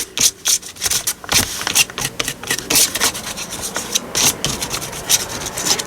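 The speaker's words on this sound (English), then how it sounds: "rubbing this flat because I like when you get little rough bits there" Yellow ochre paint being rubbed flat across a board in a rapid, repeated rasping scrape, loud and close, steady through the clip with no talking.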